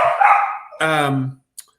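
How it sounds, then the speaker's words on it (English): A dog barks and yelps nearby indoors in a couple of sharp, loud bursts with a whining tone, then falls quiet. "My dog's going nuts"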